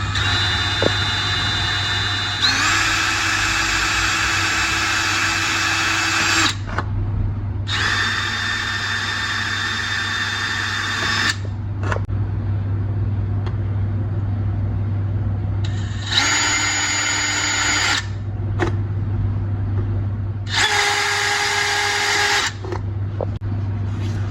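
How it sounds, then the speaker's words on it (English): A power drill whines in several separate bursts, each a few seconds long, drilling holes in a jar, with short pauses between, close up over a low steady hum. "Now the next part is to drill some holes in it."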